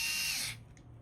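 A screw gun drives and tightens a screw, a loud high whirring burst for about half a second that then cuts off, leaving a faint low background hum.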